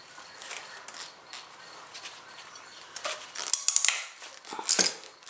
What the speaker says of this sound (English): So let's go ahead and crimp this guy.